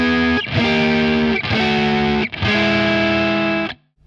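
Distorted electric guitar playing four blues turnaround chord shapes in a row, each a loud, sustained ringing chord struck once and held, separated by brief muted breaks, ending in silence.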